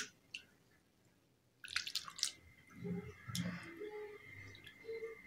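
Faint water sloshes and drips as poha (flattened rice) is gently rubbed and rinsed by hand, with soft wet splashes at a quiet, close level.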